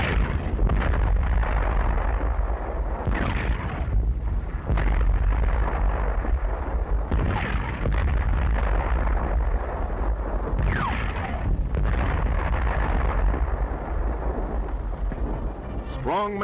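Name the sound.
tank guns firing on a gunnery range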